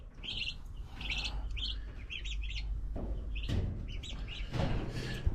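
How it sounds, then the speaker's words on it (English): Young meat bird chicks on a farm pasture chirp in quick, high bursts, several overlapping calls repeating throughout over a low steady rumble. "these are gonna be some of our meat birds"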